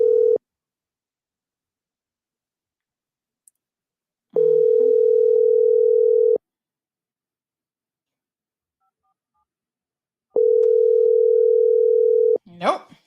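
An unanswered outgoing phone call rings back in long steady tones, separated by silent gaps, with a brief voice coming in at the very end.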